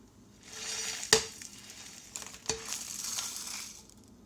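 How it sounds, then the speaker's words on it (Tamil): Black pepper and dried red chillies dry roast in a pan for ulundu paruppu podi, with soft sizzling and crackling, two clear clinks of a spoon against the pan, and stirring sounds, with no talk. "அந்த மிளகெல்லாம் கொஞ்சம் லைட்டாக பொரிய ஆரம்பிக்கும்"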